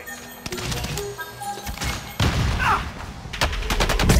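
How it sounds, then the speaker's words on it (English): Rapid gunfire in a team-based shooter video game, repeated sharp shots and automatic bursts with a heavier crash-like thud partway through, loud and close, with no talking. "I'm getting shot in the back."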